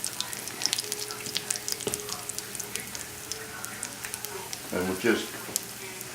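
Eggplant coated in panko breadcrumbs frying in plenty of oil, heard as a continuous close crackling sizzle with scattered pops and a brief bubbling burst near the end, while a person talks.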